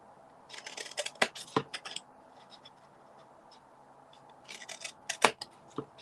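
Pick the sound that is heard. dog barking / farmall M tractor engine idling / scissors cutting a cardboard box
scissors cutting a cardboard box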